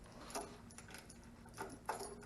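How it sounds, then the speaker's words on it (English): Keys jangling as a ring of keys is pulled out before starting a mower with a 47-inch deck, a few faint, scattered metallic clinks over a quiet background. "get my keys out"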